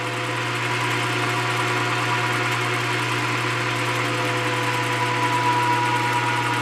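A stationary engine with a governor runs steadily at about 750 RPM, driving a milling machine. The hum is continuous and even, close and fairly loud, with no talk over it.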